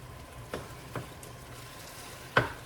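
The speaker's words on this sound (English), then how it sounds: "Mix that all in." Salsa being mixed into an enchilada filling in a pan, a faint low sizzle under a few spaced scraping stirs, the last stroke louder and nearer, with no voices.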